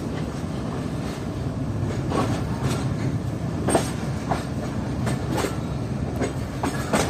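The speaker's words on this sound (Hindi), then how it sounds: "और ये 42 डाउन कराकरम एक्सप्रेस भी आप देख सकते हैं प्लेटफॉर्म नंबर" The 42 Down Karakoram Express pulls in at platform 1 of Rohri Junction, its steady low rumble punctuated by repeated clicks and knocks of the wheels over the rails, held at a constant level throughout.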